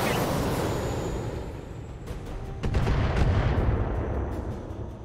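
A salvo of LRM missiles launched from a mech in Battletech, heard as a dense, loud rumble of rocket fire with sharp crackling launches stacked on top. The roar swells toward the end.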